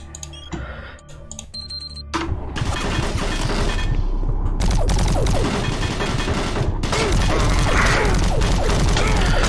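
Gunfire and clattering combat in the video game Doom 3, starting with sparse mechanical clicks and then erupting into a dense, continuous loud barrage of shots and crashes that lasts to the end.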